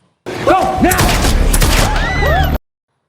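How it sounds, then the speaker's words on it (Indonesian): Gunfire in a casino shootout from a film, a rapid burst of shots and thuds with ricochet-like whines, heard under a voice talking, ending abruptly. "Semua pengunjung kasino panik dan berhamburan keluar melihat baku tembak antara Dan dan anak buah McCaffrey"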